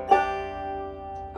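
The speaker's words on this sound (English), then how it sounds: "So open, your banjo should sound like this." Banjo open strings strummed once with the fourth string tuned down to C, a bright plucked chord ringing and slowly decaying, quiet and close, followed by a faint new pluck at the end.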